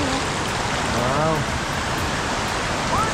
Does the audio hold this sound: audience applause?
no